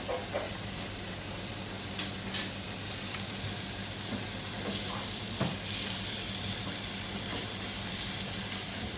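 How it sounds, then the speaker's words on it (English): Lamb pieces searing in a pan over high heat give a loud, continuous sizzle and hiss with occasional faint stirring taps, close and steady throughout. "start to sear beautifully your lamb"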